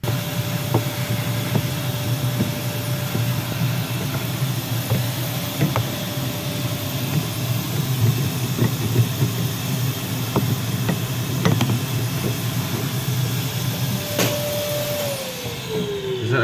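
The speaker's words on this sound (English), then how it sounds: "get the vacuum cleaner out" A vacuum cleaner runs continuously with a steady whine and hiss while cleaning a CNC-carved sign, punctuated by small clicks and knocks, its pitch dropping slightly near the end.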